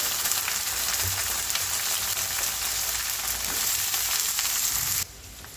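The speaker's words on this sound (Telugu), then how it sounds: "ఇప్పుడు ఈ వంకాయని 5 నిమిషాలు ఇలా ఫ్రై చేసుకుందాము" Brinjal pieces fry in a pan with oil, producing a loud, continuous close-up sizzle with small crackles that stays steady before dropping off abruptly near the end.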